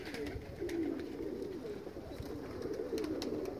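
Pigeons coo in soft, low, rolling calls that repeat over a faint steady background, fairly distant and quiet with no voices.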